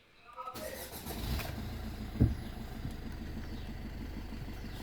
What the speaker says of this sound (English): The starter ran very well, and the car is on in couple of seconds only.